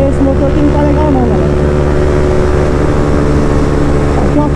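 Honda CB 300 motorcycle engine droning at high speed, a loud, steady, close-up tone that whines up and down over constant rushing wind noise.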